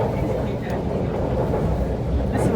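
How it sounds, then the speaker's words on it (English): An MTR Kwun Tong Line M-Train runs underground, producing a loud, steady, close rumble with faint clatter and some voices underneath. "That's an M train."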